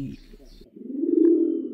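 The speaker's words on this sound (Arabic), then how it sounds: "أقول وقد ناحت بقربي حمامة" A dove coos nearby in a drawn-out, steady, low call that swells and holds for about a second, following a brief stretch of quieter sound.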